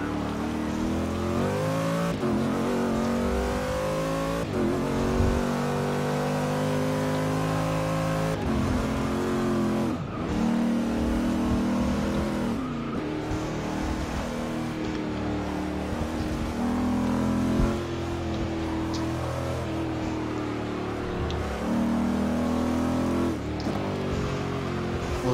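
Race car engines in a TORA endurance racing video game at COTA, Ferrari, Porsche and LMP prototypes in the field, droning and revving continuously and loudly with shifting pitch throughout, faint voice underneath.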